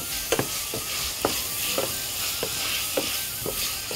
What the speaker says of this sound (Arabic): وابتدي اقلب بقى كله مع بعضه اهو